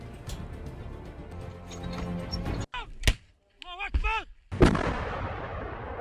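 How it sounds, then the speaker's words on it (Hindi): Loud cracks and booming gunfire from Hamas fighters training with rocket launchers and grenades, with sharp isolated shots, a heavy blast near the end and a voice shouting between bursts. "रॉकेट लॉन्चर, ग्रेनेड जैसे घातक हथियारों के साथ प्रैक्टिस कर रहे हैं।"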